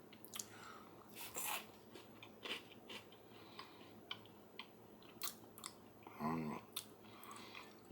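Close, crunchy chewing of chocolate coated freeze dried jello balls, with irregular bites and mouth sounds over several seconds and a brief murmur near the end.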